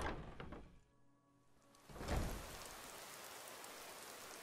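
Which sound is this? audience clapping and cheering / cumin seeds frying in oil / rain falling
rain falling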